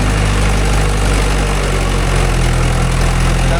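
A Mahindra 575 DI tractor fitted with cage wheels works a muddy rice field, its diesel engine a loud, steady, low rumble that continues without a break.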